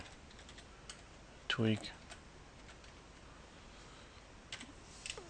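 Short bursts of computer keyboard typing, quick clustered keystrokes near the start and end of a quiet stretch, with someone speaking in between.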